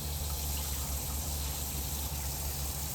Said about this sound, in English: You only hear that when I turn the water on.